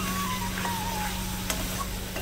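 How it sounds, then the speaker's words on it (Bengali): Spiced meat masala for kosha mangsho cooks in a village kitchen pan with a soft, even hiss of frying and a faint clink of stirring. "যতক্ষণ না কাঁচা গন্ধ যাবে ততক্ষণ আমি কষাতে থাকবো।"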